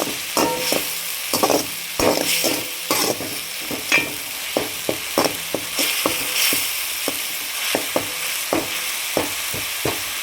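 Tomato gravy for a meal maker curry sautéing in a pan, a constant frying sizzle broken by repeated scraping and knocking strokes of a spoon stirring against the pan, close and fairly loud, with no voices.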